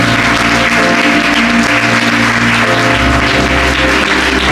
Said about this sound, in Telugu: కర్తలతో చప్పట్లు కొడుతూ ఆహ్వానిస్తాం